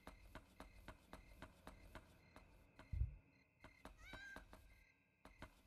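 A cat meows in the horror video game Yomawari: Night Alone, a short clear call heard after a steady run of soft rhythmic footsteps and a dull thump.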